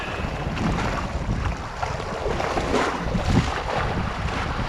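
Rough, stormy sea churns around a small island near Caledonia Island, with a steady roar of gusting wind buffeting the microphone over the constant wash of choppy water.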